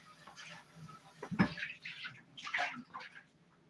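Water runs and splashes faintly while a dish is rinsed out in a home kitchen ahead of mixing tamale dough, uneven and soft with a few louder spurts.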